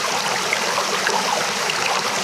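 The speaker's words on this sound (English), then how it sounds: "the creek flattens out here and cascades down to where we were below" A mountain creek cascades down a slope near old irrigation works, a loud, close, continuous rush of splashing water with no voices.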